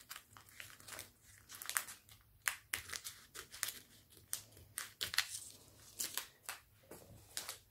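Excess clear book-covering material being trimmed away from a covered exercise book, a run of close crinkling, crackling plastic rustles and snips in irregular bursts, with no talk.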